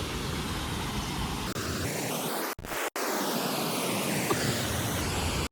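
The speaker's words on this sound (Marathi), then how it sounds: "हा धबधबा बघा तुम्ही कसला धबधबा आहे एकच नंबर" Continuous roar of rushing water, like a nearby waterfall, with two brief dropouts in the middle and no talking.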